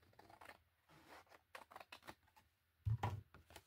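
Scissors cut straight across a paper junk mail flyer, a close run of dry, scratchy snips and rustles in a quiet room, ending with a louder crisp crunch near the finish.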